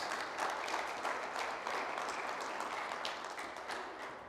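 A church congregation at a worship service applauds steadily, a dense even patter of many hands clapping that sounds somewhat distant and soft.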